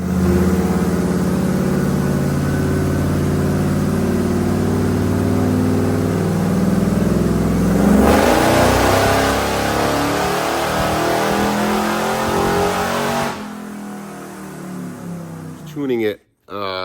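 An SVT Ford Lightning pickup truck runs on a dyno, its engine droning loudly and climbing in pitch through a long pull before it drops off abruptly at the end.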